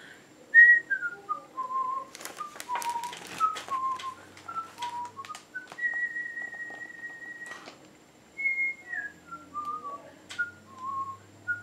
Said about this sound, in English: and he whistled all the way home